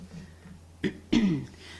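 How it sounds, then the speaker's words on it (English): Two short coughs close to the microphone, the second one louder and rougher, in an otherwise quiet room. "Got a cough, sorry."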